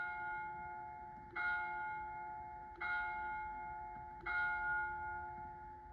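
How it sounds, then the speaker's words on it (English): A bell over a museum's great entrance chimes three times at an even pace of roughly one and a half seconds. Each strike rings clear and resonant, then fades slowly into a sustained hum. "the bell glimmered and chimed over the great entrance of the museum"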